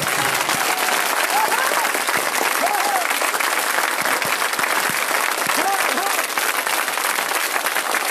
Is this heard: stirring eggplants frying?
no